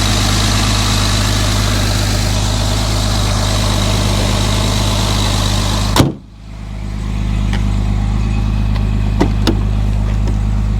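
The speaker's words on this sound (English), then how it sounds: "Let's take one final walk around the vehicle running." A restored 1968 Mercedes-Benz 280SL Pagoda with its engine running at a steady idle, a loud continuous low drone that drops off abruptly partway through and then returns more quietly with a few faint clicks.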